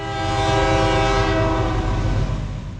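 A loaded P&W CT2 stone train roars northbound toward Danbury, a loud, close, steady rumble of cars rolling past with sustained horn tones ringing over it throughout.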